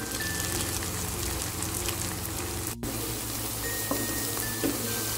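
Mashed oncom goes into a hot frying pan with softened seasoning and sizzles steadily as it is stirred, with a brief scrape or clatter partway through.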